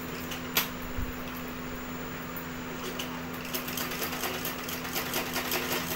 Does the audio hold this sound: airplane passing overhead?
no